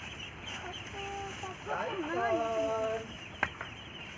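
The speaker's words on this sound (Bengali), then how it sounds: "হাঁস আর মুরগির বাচ্চা" Young ducklings and chicks peep nearby in a string of thin, high chirps that grow busier and louder midway, followed by a brief knock.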